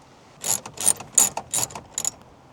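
A ratchet works loose the bolts that hold the display in a Ford F-150 dashboard, giving about five close, quick bursts of metallic clicking separated by brief pauses, with no talking.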